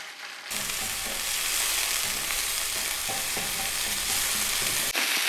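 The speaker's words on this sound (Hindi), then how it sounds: "चिकन को ऑयल में हमने इतना सौते करना है कि इसका कलर" Cubed chicken sautéing in oil in a pan, a steady close sizzle with occasional stirring scrapes, with no voices.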